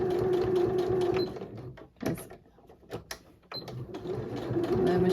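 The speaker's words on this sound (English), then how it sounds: "on home machines, when you do have a bulk of seams coming together, obviously sometimes it hesitates just a little bit" A home sewing machine stitches through four to five layers of bulky fabric seams, a fast steady mechanical whir that slows and stalls midway with a few clunks before resuming.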